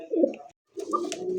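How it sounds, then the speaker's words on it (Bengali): Pigeons, a male and a female, coo close by in short throaty bursts, one call, a brief silence, then another overlapping coo. "নর মাদি সেম দুইটাই কিন্তু একত্রে ডাকে, দেখছেন?"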